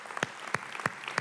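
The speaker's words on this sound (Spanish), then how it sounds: "Fuerte, fuerte ese aplauso." A church audience claps in slow, heavy, evenly spaced strokes, about four distinct loud claps over a second, with a faint murmur of applause underneath.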